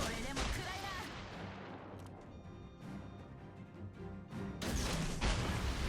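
Warship main guns fire a salvo in World of Warships Legends, a series of loud, booming blasts with rumbling decay that swell again near the end, set against game background noise.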